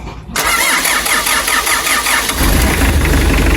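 Car engine cranking and catching right after a timing belt replacement, a short starter whir then a firm mid-pitched rumble settling into idle, close and loud with no voices.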